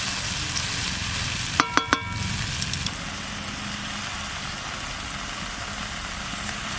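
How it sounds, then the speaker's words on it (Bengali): Washed masoor lentils fry in a pan on the stove with a steady, close sizzling hiss, and a few quick clinks of a utensil come early on. Nobody speaks. "একটু ভেজে দিতে হবে।"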